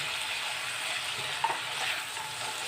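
Taro greens cooked with chickpeas are stirred in a hot pan, giving a steady close sizzle with soft scraping and stirring sounds throughout.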